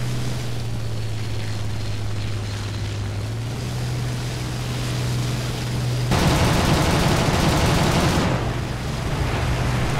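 A Bf 109 G-2/trop fighter drones steadily in a flight combat game, then its guns fire one loud, dense burst lasting about two seconds before the engine hum carries on.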